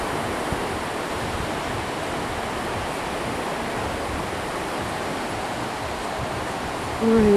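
Sea waves wash onto the beach at Jurmala in September as a steady, loud rush of surf that fills the whole stretch, with a voice starting briefly at the very end.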